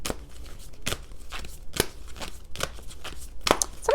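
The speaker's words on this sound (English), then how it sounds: "We're going to shuffle some of these Power of Surrender cards on camera" A deck of Power of Surrender oracle cards is shuffled by hand, giving a series of sharp riffling flutters at a fairly steady pace, close and crisp in a quiet room.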